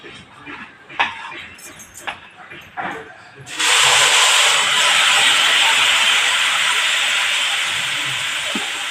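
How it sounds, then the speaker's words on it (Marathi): Rice and urad dal amboli batter hits a hot griddle and bursts into a loud, sustained sizzle that starts suddenly partway through and then hisses steadily, after a few faint clinks and movements. "तर तवा तापलेला आहे तर छान येतील आंबोळ्या"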